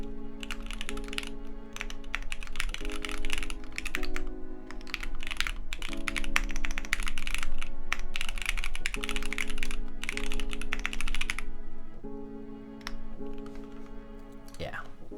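Typing on a custom Matrix Lab ME mechanical keyboard, with dense, rapid, close-miked key clacks flowing in steady bursts, while a faint tonal hum sits underneath.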